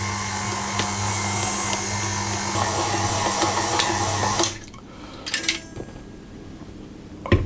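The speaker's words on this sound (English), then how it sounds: "I'm going to mix this for about 5 minutes on low speed" A stand mixer whirs steadily on low speed, kneading a sticky seeded rye dough made with soaked bread, then cuts off midway, leaving a few quiet clatters and knocks.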